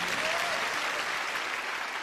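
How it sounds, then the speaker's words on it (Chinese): Applause from a studio audience at a Chinese television show as a new guest is welcomed: steady, dense clapping that fills the whole moment at an even level, with no talking over it. "掌声欢迎。"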